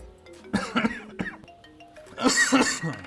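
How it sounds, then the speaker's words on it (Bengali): Several harsh, close coughs, with a throat-clearing rasp among them, come in separate bursts. "তোমার কাশি হলো কখন?"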